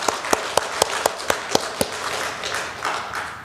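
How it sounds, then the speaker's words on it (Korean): A church congregation at a seminar on encouraging childbirth claps together in sharp unison beats, about eight evenly spaced claps, then trails off into a looser, softer patter. "박수 한번 합시다"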